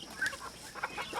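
Short, soft clucks from a few Polish hens close by, a couple of brief bursts with quiet gaps between.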